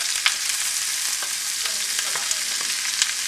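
Onions frying in a very hot pan until golden brown, a steady loud sizzle throughout with occasional faint scrapes of stirring underneath, no talking.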